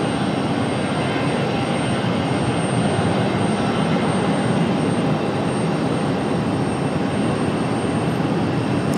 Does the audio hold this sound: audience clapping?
no